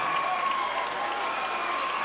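High school basketball crowd cheering and clapping for the Warsaw Tigers at Plymouth during a timeout, a loud, continuous roar of voices and applause filling the gym.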